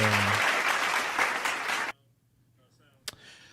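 Applause from an audience at an evening gathering fills the first two seconds with dense, steady clapping that cuts off abruptly, followed by near silence and one brief sharp knock.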